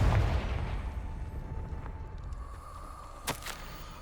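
A Confringo fire spell blasts in Hogwarts Legacy, a low rumbling roar of flame and impact that fades into a steady hum, capped by a couple of sharp crackling pops near the end, with no talk.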